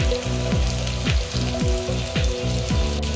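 Potatoes fry in oil left over from cooking chhena kofta, giving a continuous crackling sizzle with regular rhythmic scraping strokes of a spatula throughout, close and fairly loud, with no voices.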